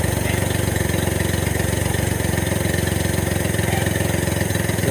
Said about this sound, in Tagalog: i-rev ko lang ulit para mas mabilis uminit ang makina.